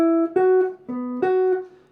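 Guitar playing a pickup phrase into the bridge of a song, four plucked notes in a short rhythmic run, each ringing briefly before the next, close and clear with no talking.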